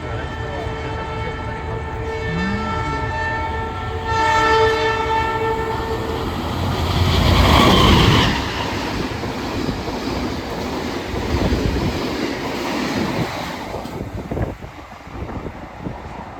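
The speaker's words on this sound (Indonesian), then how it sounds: "Berangkat kereta api Kahuripan dari stasiun Caruban setelah disusul Malabar dan Mutiara Selatan." Malabar train passing Caruban station in Indonesia, its horn blaring as the rail cars rush by with wind buffeting the microphone, the roar swelling loud at the middle and then rumbling on.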